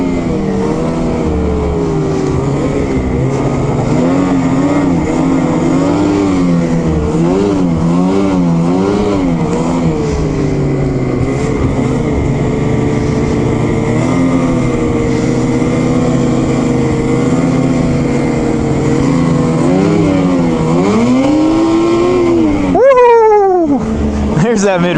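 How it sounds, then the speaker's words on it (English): A 2021 Ski-doo XRS snowmobile with an 850 E-TEC engine runs throaty and loud up close, its pitch rising and falling as the throttle changes, with a brief rev burst near the end. "The 850 Patriot almost sounds like it's like gargling at slow speeds."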